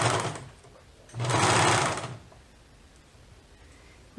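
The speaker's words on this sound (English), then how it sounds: "the machine will cut them off since I'm serging." Serger sewing machine stitching through three layers of fabric, two bursts of fast whirring hum, a short one then a longer run, close up, separated by near-quiet pauses.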